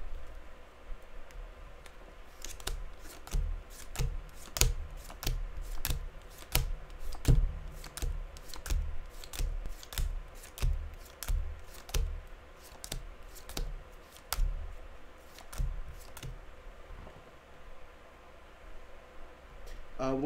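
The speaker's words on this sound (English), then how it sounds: "Even if I'm just like shuffling cards right now." Playing cards are shuffled over and over during a casual podcast recording, making a long run of light, crisp clicks and flutters at a fairly steady pace.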